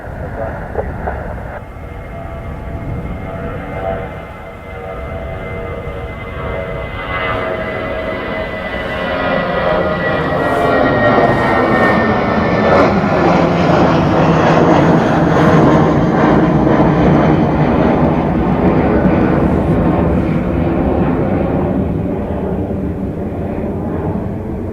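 An Aegean airliner takes off at Dublin Airport, its jet engines building into a loud, sustained roar that peaks mid-way and slowly fades. Radio chatter is audible faintly at first.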